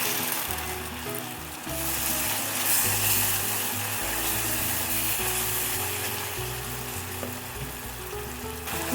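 Butter melting in a pan for a salted chocolate caramel, with a continuous frying hiss over low, rumbling stove and handling noise throughout.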